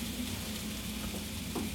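Cauliflower and peppers stir-frying in a pan, a soft steady sizzle, faint and close, with light stirring scrapes.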